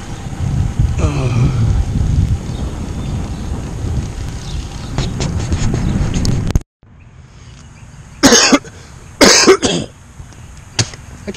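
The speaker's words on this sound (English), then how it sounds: "I can't get rid of this cough." A cyclist on a group ride coughs a few times in outdoor wind noise; after a brief dropout, two or three sharp, loud coughs follow close to the microphone.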